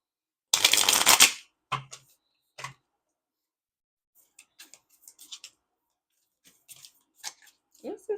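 Tarot cards being shuffled: one loud riffling burst at the start, then scattered soft card taps and flicks, with faint speech in between.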